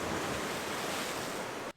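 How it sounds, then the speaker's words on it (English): Ocean surf washing onto a beach, a loud, continuous rushing roar with a slight windy edge that stops abruptly just before the end, with no voices. "if I'm shooting by the beach, it's not uncommon that I get splashed by waves"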